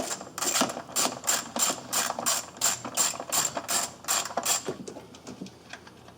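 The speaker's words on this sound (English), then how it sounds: "Alright, so I'm loosening up these bolts." A hand ratchet clicks rapidly and evenly while loosening intake manifold bolts on a 2004 Ford Crown Victoria, a close, crisp run of pawl ticks that stops short near the end.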